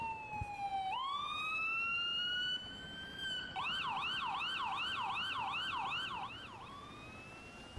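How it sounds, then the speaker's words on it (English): An ambulance siren in the emergency-services game Emergency 4, rising in a long wail, then switching to a fast repeating yelp, loud and continuous on its own. "what we get right now is the ambulance heading towards the hospital"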